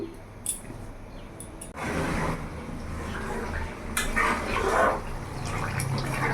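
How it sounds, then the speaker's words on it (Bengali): Rohu fish kalia broth bubbling in a pot over a turned-up gas flame, a steady soft simmering wash with faint liquid pops and a couple of light clinks early on, no talking. "দেখতে পাচ্ছ মাছের ঝোল একেবারে ফুটে গেছে।"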